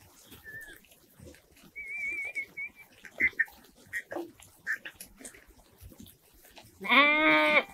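Sheep in a village farm flock bleat in short calls, with one loud, drawn-out bleat near the end and fainter calls and bird chirps scattered before it.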